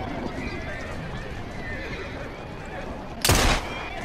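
A horse in Assassin's Creed Syndicate gives a brief loud whinny near the end, over a busy game background with hoofbeats and faint voices.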